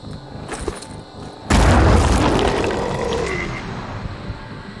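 A grenade explodes in the Phoenix Point tactical game. A single loud, close boom with a deep low thud rolls out into a long, fading rumble after a quieter stretch of background sound.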